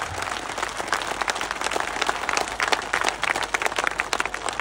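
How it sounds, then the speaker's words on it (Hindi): Sustained applause from a crowd at a political rally in Rajasthan, dense and steady throughout with no voices standing out. "ये तालियां बजती रहे तभी आनंद आएगा"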